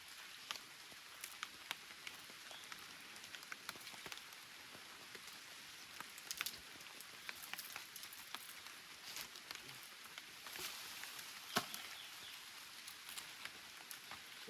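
Heavy rain pours down in a forest near a border, a steady broadband hiss of falling water with scattered sharper drop impacts, continuous and fairly faint throughout with no voices.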